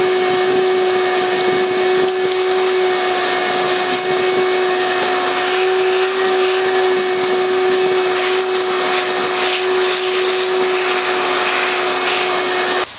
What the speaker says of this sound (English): So I'm going to grab the shop vac and get this junk vacuumed out